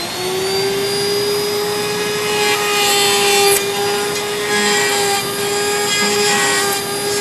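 A router cutting dovetails in clamped wood stock gives a loud, steady, high-pitched motor whine with a continuous grinding rasp. No one speaks over it.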